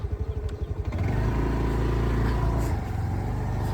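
A motorcycle engine chugs in quick pulses, then settles into a loud, steady, close rumble on a muddy track.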